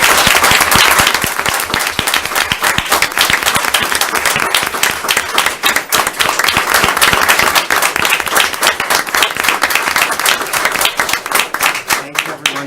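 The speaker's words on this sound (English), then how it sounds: "Please, one more round of applause for all of our hometown heroes." Sustained, dense applause from an audience at a hometown heroes ceremony, loud and steady throughout and easing off slightly near the end.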